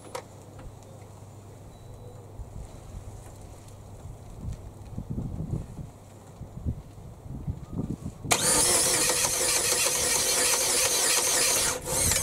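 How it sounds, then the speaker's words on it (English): Scattered clicks and mechanical knocks, then a loud, steady whirring drone as a rebuilt Vauxhall Astra engine cranks over, holding for several seconds. "I'm just gonna see if we can get any oil pressure by cranking the engine over."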